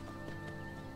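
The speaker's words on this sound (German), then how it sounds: "kostbares Pferd." Horse hooves clop faintly in the video game Skyrim during a single brief moment of riding, with no talk over them.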